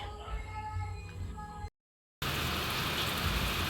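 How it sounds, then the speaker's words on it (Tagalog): Heavy rain pouring steadily, broken by a brief silent cut, then a dense wash of downpour. "Malakas po ang ulan ngayon."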